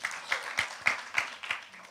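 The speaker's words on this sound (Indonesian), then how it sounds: "Tepuk tangan yang panjang buat Tuhan." A congregation at a church worship service claps in a loose pulse of about six soft, evenly spaced bursts, fairly distant and quiet.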